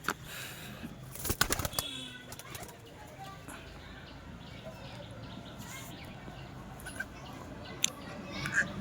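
Andhra breed pigeons kept at a home loft for sale coo faintly and intermittently against a low background hum, with a brief loud rustle or wing-flap burst early on and a few sharp clicks later.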